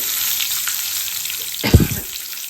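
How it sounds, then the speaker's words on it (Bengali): Asafoetida sizzles in a hot pan during khichuri cooking, a steady bright frying hiss with a short louder scrape of stirring near the end; close and alone, no talking. "হিং দিয়ে দিলাম দিয়ে একটুখানি নেড়ে ছেড়ে"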